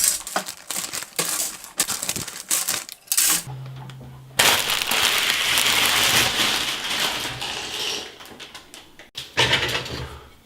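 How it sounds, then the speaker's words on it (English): Plastic bags from a Bandai 1/35 model kit crinkle and rustle in sharp, close bursts as the sprue runners are pulled out, with a brief low hum and a short quiet pause partway through. "I'm going to remove all the runners from the plastic bags for you"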